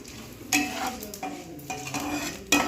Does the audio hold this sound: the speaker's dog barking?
no